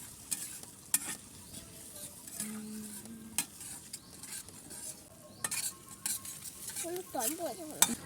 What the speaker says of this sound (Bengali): কড়াই তেল গরম করে পেঁয়াজ কাঁচা লঙ্কা রসুন তুচি দিয়ে ভাজতে শুরু করে দিয়েছি